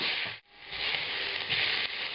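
Onions fry hard in lamb fat on a very hot stove for Uzbek plov, giving a steady loud sizzle with one brief dip.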